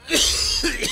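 A short, harsh cough, two quick bursts close up within under a second.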